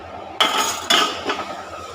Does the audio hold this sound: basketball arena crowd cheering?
no